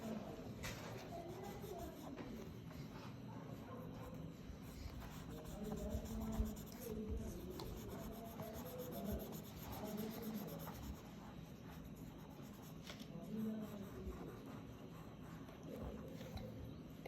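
A light pink pastel drags across paper while a spring-season drawing is coloured, making soft, scratchy rubbing strokes in a steady back-and-forth rhythm close to the mic, with faint background hum throughout.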